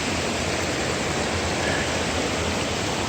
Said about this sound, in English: And then this is the Waterfalls.